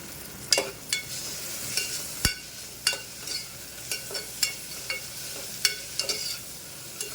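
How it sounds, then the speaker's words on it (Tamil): Mint and coriander leaves sauté in a pan for mutton curry, with a soft steady sizzle punctuated by regular clicking scrapes of a stirring spoon, close and fairly quiet. "சேர்த்து நல்லா வதக்கிக்கலாம்."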